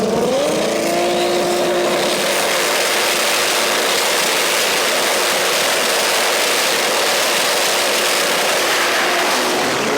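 Drag racing engines at the track, 2JZ and 20B powered cars in the extreme class, roar loudly and steadily throughout, a sustained high-revving drone that climbs in pitch near the start and holds, with no talk over it.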